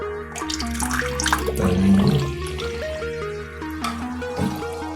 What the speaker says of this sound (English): So let me just turn the water on, and hopefully, I'm sure it will work.